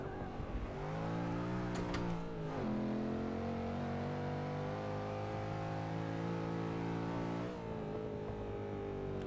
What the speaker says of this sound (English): I love the sound of that rumble.